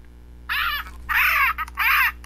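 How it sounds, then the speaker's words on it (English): A smart speaker plays a recorded parrot squawk: three loud, harsh, raspy calls in quick succession, each about half a second long, heard alone and close. "Here's a parrot squawk."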